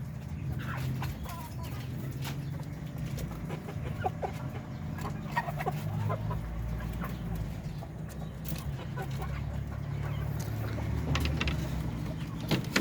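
Four hens and a rooster cluck softly on a farm, scattered close-range clucks over a steady low background hum, with quiet voices now and then.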